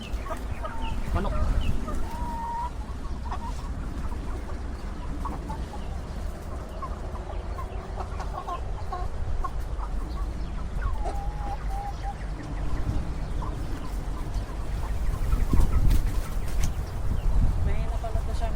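Chickens cluck intermittently around a rural yard at feeding time, with short calls scattered at moderate distance under someone talking and steady outdoor background noise.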